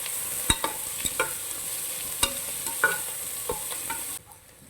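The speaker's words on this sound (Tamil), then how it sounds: "பாருங்கள், வெங்காயம் நல்லா எண்ணெயில் ஃப்ரை ஆயிடுச்சு" Onions frying in oil for chicken biryani, a soft continuous sizzle broken by several sharp spoon clicks and scrapes against the pot, ending abruptly.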